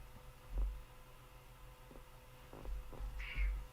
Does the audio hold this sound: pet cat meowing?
yes